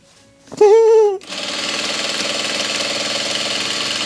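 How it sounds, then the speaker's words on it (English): Sewing machine straight-stitching a satin bonnet, a brief harmonic whine at the start giving way to a steady, fast, close mechanical rattle of the needle running continuously. "Back stitching throughout. Doing that straight stitch."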